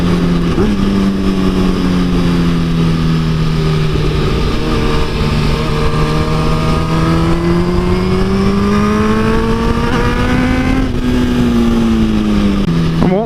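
A 2010 Honda Fireblade motorcycle riding at speed, a steady loud engine drone with slowly shifting pitch and heavy wind rush, close and continuous with no talking.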